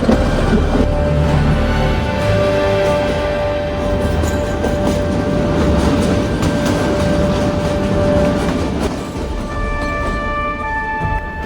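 Kalka–Shimla toy train in Himachal Pradesh rolling steadily through forest, a continuous loud rumble of wheels and carriages with faint rhythmic rail clatter throughout, no voices.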